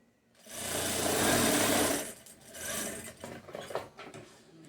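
A sewing machine stitching a small zippered pouch, a loud close whir for a couple of seconds that slows into shorter, uneven bursts of stitching and handling.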